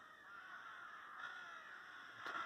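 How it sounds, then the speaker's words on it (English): Rooks caw faintly from a distance in a quiet green spot, a few harsh calls rising and fading against a soft background hush. "So the rooks."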